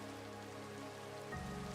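Continuous hiss of falling rain in the video game Minecraft at night, a steady even wash with faint tonal game sounds layered over it.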